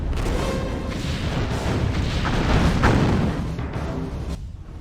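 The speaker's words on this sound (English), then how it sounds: "Lining up forward torpedo tubes." Starship weapons fire in Star Trek Bridge Commander, a run of heavy booming bursts that swell and overlap over a dense rumbling bed, loud and close throughout.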